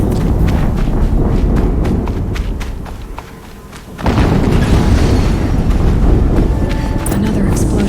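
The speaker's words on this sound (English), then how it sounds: "Another explosion." Explosions in the video game Horizon Zero Dawn: loud, dense booming rumble fills the whole stretch, dipping briefly in the middle before a fresh blast surges back, with voices and game noise mixed in.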